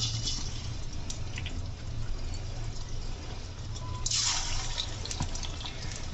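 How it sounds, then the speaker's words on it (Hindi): Small pakoras frying in a pan of hot oil, with a steady close sizzle and bubbling hiss and a brief surge of crackle as more batter goes in. "तेल गरम हो गया है, अब इसमें हम छोटे छोटे पकौड़े डालेंगे।"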